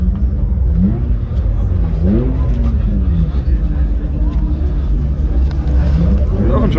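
A classic car rolls past at an outdoor oldtimer meet on an airfield, its engine a steady low rumble with a rising and falling pitch, loud and close, while people talk nearby.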